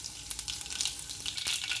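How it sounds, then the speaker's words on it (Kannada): Mustard seeds and asafoetida splutter in hot oil for a tempering, a close, quiet but busy crackling fizz with scattered sharper pops throughout. "ಚೆನ್ನಾಗಿ ಚಿಟಪಟ ಅಂತು ಸ್ಟವ್ ಆಫ್ ಮಾಡಿದೆ"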